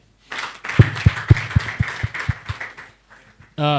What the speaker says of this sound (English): Please, let's clap for IGIHE.